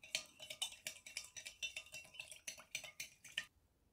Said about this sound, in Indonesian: Gula pasir akan aku larutkan dulu dengan susu. Diaduk.